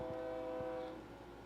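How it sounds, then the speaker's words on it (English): A train horn from the video game Final Fantasy 16 sounds as a sustained, steady multi-tone blast that holds briefly and then fades slightly, with faint low thumps underneath and no talking. "Train!"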